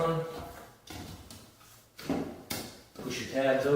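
An air conditioner's access door is slid back into place, with a few plastic clunks and scrapes, close and moderately loud, alongside a person talking.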